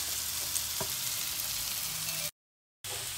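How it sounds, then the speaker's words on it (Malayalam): Bitter gourd stir-fries in an iron pan with a steady, close, hissing sizzle and a brief stir, cutting out for a moment before the frying resumes; no voices. "അപ്പോൾ നമ്മളിതേ ഒന്നും കൂടെ ഒന്ന് ഇളക്കി തട്ടിപ്പൊത്തി വെച്ചു"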